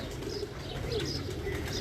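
Soft, low cooing from Ali-wale pigeons kept by Doctor Mirza Jameel, a faint, continuous murmur over a steady low background.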